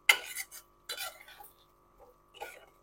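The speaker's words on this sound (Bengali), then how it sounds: "এই কসুরি মেথি আর গরম মশলার গুঁড়োটা ভালো করে গ্রেভির সাথে মিশিয়ে দেব" Spoon scraping and clinking in a pan as kasuri methi and garam masala are stirred into dahi potol gravy, a few short close bursts separated by quiet.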